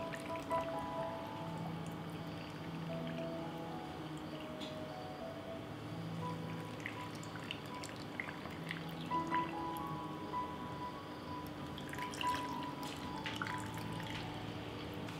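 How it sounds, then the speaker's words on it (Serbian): Water is poured into glass jars in a kitchen, giving soft intermittent trickles and drips over a quiet background hum, faint and close. "U svaku teglu sipat ću vodu."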